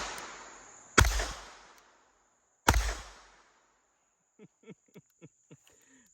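Two sharp, loud gunshots from a Standard Manufacturing Switch Gun about two seconds apart, each ringing out and decaying, followed by a few faint clicks of handling.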